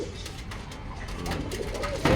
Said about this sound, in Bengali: এই হচ্ছে আমার দেশি কবুতরের খামার।